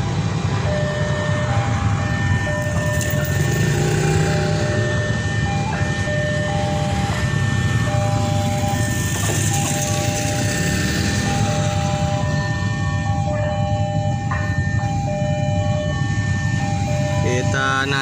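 A train passing Cikarang station in Indonesia, a sustained loud horn tone ringing over continuous rumbling rail noise, with people talking nearby.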